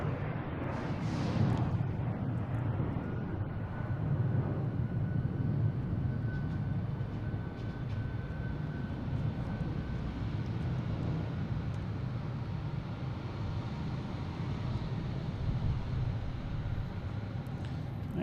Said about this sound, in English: JetBlue heading to San Francisco. An A321, flight 6333.